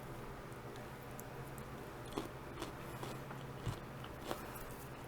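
Someone bites into and chews a homegrown cucumber grown indoors, its crunchy flesh giving a few sharp crisp bites amid softer, quiet chewing, close to the listener.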